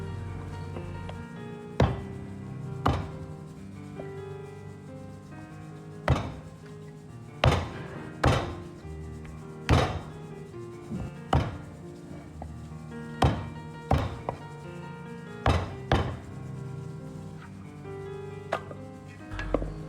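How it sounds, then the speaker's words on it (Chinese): Half a duck is chopped into even pieces with a cleaver, sharp heavy thunks striking a board in an irregular rhythm, about fifteen blows, close and loud, with no talking. "接着把鸭子剁成大小均匀的块儿。"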